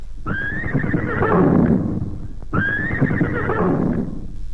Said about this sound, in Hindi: ये घोड़ा है ना अब्बड़ अतलंगा हवे